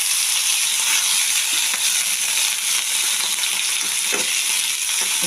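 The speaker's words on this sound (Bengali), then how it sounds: "নুন হলুদ দিয়ে আমি একটু ভেজে নেব।" Mustard greens fry in a pan with salt and turmeric, giving a steady, close, continuous sizzle with faint scattered stirring clicks and no voices.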